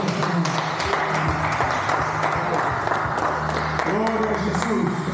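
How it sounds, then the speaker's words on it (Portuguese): A church congregation claps in a loud, continuous burst of applause, with voices and a low musical drone running beneath it and crowd noise filling the room. "Venha uma salva de palmas."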